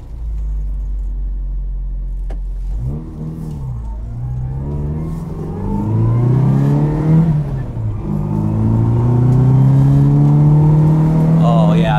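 A genuine 1966 Austin Mini Cooper with a bored-out 1293 engine and four-speed remote gearbox revs up through the gears while driving, the engine note rising and falling loudly up close.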